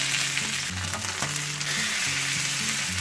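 Fish fries in a pan just after being flipped, a dense, steady sizzle holding close and loud across the whole stretch with a faint low hum beneath and no voices.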